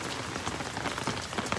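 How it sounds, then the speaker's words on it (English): Steady rain falls on surfaces nearby, a dense, even patter of drops with no voices over it. "I'm sorry I got so much rain on you, dude."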